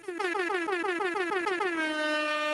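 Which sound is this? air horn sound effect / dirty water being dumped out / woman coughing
air horn sound effect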